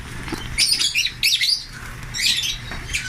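African lovebirds in a flight cage give a lively stream of high, shrill chirps and squawks in overlapping bursts, close and fairly loud, with some wing flutter.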